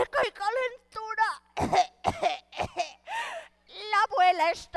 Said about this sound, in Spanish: Con tos seca y calentura.